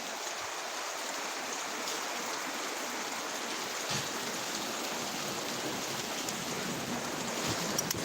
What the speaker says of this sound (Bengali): যশোরে আসলে খুব বৃষ্টি হচ্ছে